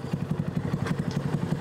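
A custom motorcycle with a very quiet, subdued exhaust idles nearby, giving a steady low, even putter with soft mechanical clatter and no other sounds.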